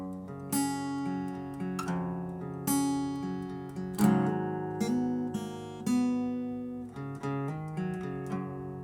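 An acoustic guitar plays a slow riff with plucked notes and ringing bass tones in a steady, unhurried pattern, close and clear, with no talking.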